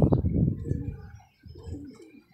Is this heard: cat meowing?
no